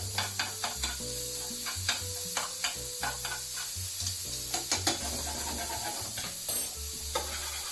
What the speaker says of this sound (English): You want to put your bacon in, just let that fry away.